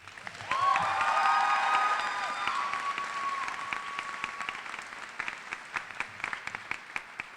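Sustained applause from an audience at a 2017 high school graduation ceremony, swelling quickly then thinning to scattered claps, with a sustained feedback-like tone ringing through the opening seconds.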